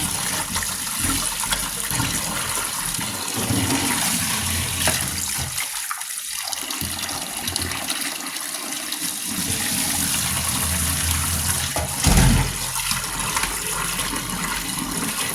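Tap water runs steadily into a sink while pork stomach is washed, a loud close rush with splashing changes as the stomach is handled, and no talking.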